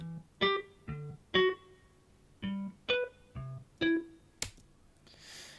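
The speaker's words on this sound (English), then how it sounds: "we use another Logic instrument called, under guitars, electric guitar harmonics." Sustained electric guitar harmonics from a Logic software instrument ring out as a series of separate bell-like notes in a steady, spaced rhythm, clear and alone with no talking.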